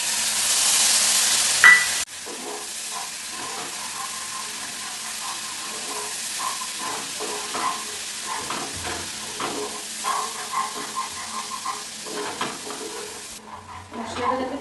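Spice paste loosened with water hits hot oil in a pan, an opening loud burst of hiss easing into a steady close sizzle with soft stirring scrapes throughout.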